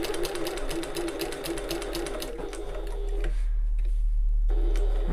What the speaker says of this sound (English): we're going to baste around the outside edge using a 1/4 inch or 6mm seam allowance